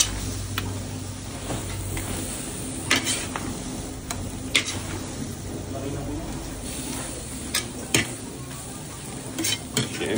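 A utensil stirs laing with coconut milk in a pan, bubbling softly underneath while scattered light clicks and scrapes tap against the cookware, close up with a voice nearby.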